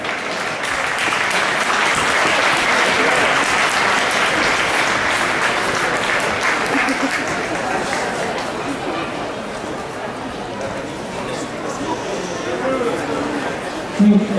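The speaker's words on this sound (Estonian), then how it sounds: "võtame need vastu aplausiga" An audience at a senior standard ballroom dance championship gives a sustained round of clapping for the dancers, a dense, loud, even wash of applause that slowly thins toward the end, with faint crowd chatter underneath.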